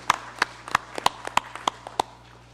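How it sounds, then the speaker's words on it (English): Sparse clapping during a legislative congress session, a few hands striking in a loose, uneven rhythm of about eight sharp claps over a couple of seconds, fairly close and with no talk over it. "May I ask that we give them a round of applause."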